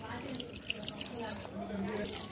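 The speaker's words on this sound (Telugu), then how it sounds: "తీసుకొని దాంట్లో వాటర్ పోసి మిక్స్ చేసుకోవాలి" Water is poured into a cup of wheat flour for mixing, giving a continuous splashing pour with a few sharper drips. Someone speaks over the pour.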